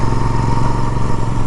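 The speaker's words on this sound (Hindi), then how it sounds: "ये देखिए थर्ड गियर पे भी बाइक बढ़िया खींच रही है।" A Royal Enfield Super Meteor 650 motorcycle engine pulls steadily in third gear, a loud, continuous throbbing drone recorded close up with no talking.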